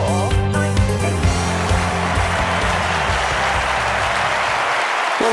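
A large crowd applauds steadily and loudly at a London 2012 Olympic archery medal moment, dense clapping and cheering filling the arena throughout, with a low musical tone underneath early on.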